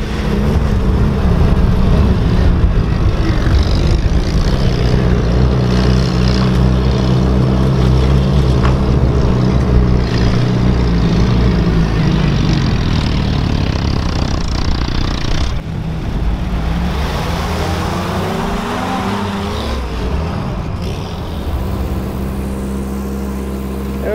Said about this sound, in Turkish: Willys MB yol testimize başladık.